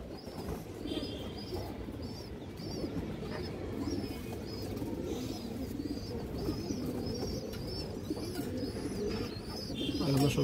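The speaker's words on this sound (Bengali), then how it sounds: "এই দেখেন খুবই সুন্দর কবুতর।" A pair of silver pigeons coo quietly in a loft, their low murmuring mixed with repeated faint, high chirps over a steady hum of background noise.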